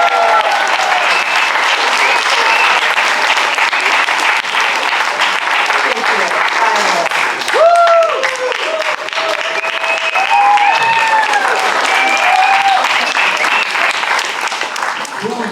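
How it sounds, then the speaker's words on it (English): An audience at a live comedy show applauds loudly and continuously for about fifteen seconds, a dense wash of clapping with scattered whoops and voices over it. "Do y'all want to give them a round of applause?"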